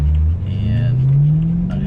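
A car fitted with an ESS 650 supercharger accelerates, its engine note climbing steadily in pitch with a whirring supercharger whine, loud and close throughout.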